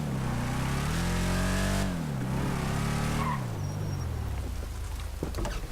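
A Vapid Ellie muscle car in GTA 5 accelerates hard through rising engine revs with gear changes, then brakes to a stop with a tire squeal and skid. The engine sounds close and loud, and the run lasts several seconds.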